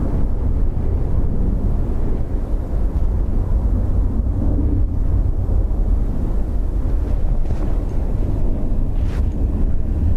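Strong wind blows across a microphone at Dublin Airport, a loud, continuous low rumble and buffeting roar that lasts the whole stretch with no speech.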